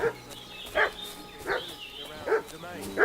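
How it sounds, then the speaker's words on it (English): A dog barks in Kingdom Come: Deliverance 2, five sharp barks spaced roughly evenly over a few seconds, moderately near, with a faint whine between them and no talk. "What's that dog making such a fuss about?"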